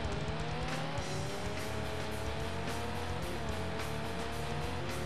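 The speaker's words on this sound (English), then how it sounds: "I'm approaching some cars now" Race cars in the video game Destruction Derby 2 roar continuously at high revs, engine whine shifting pitch steadily with no voices over the loud, unbroken motor noise.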